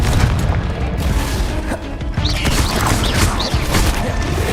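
Confringo blasting spells explode in Hogwarts Legacy combat, a dense run of loud booms and crashing impacts layered over constant battle noise with no gaps.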